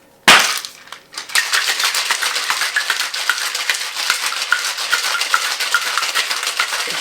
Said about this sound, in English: We're going to get some ice in the tin and give this thing a shake.